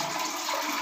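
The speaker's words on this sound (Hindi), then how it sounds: "चलिए हम फ्लश खोलते हैं" A toilet flush valve releases a loud, steady rush of water close up, a continuous hiss that fills the whole short stretch.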